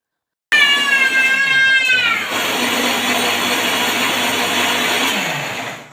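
A child makes a loud, sustained whirring noise imitating a mixer grinder, rising and wavering at first, then holding a steady buzzing drone for several seconds before fading.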